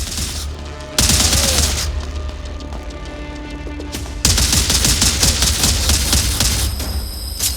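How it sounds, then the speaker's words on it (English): A crystal-powered rapid-fire pistol in a VR game trailer, dense bursts of fast repeated shots that start abruptly, pause briefly, then resume louder and continue with a steady rattling rhythm, no talking. "In the trailer, for instance, they show a rapid fire pistol with a crystal that's powering the gun."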